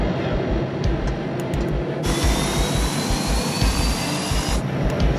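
Turbine engine of a Buffalo cargo aircraft spooling up for takeoff on a northern runway, a loud steady roar that jumps in intensity partway through as a rising whine climbs, then drops back near the end, with no talk.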